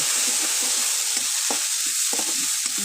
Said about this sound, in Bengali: আমি ভালো মতন মশলা কষাই নেব